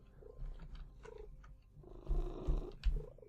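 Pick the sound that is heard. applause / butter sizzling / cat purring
cat purring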